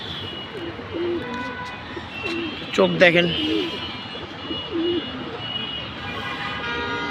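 Pet pigeons held in the hand at home give soft, low coos now and then beneath a man's close, steady talking.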